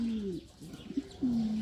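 Pigeons or doves coo in short, soft, low calls, two drawn-out coos with a few quieter murmurs between them, close by and fairly faint, with no voices.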